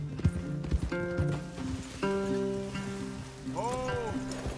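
Horses in Red Dead Redemption 2 clopping and snorting in rain, with a brief whinny, under tense game music and a couple of voices.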